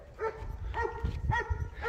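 A dog barks repeatedly, close and loud, with short yelping, whimper-like calls outside HMP Frankland prison in Durham; four or five sharp barks in quick succession over low rumbling background.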